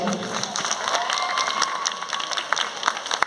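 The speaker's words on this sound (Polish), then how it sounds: "Brawa dla zawodniczek." A crowd at a girls' competition award ceremony applauds, with dense clapping, some cheering and children's shouts, moderately distant and sustained, with a few louder claps near the end.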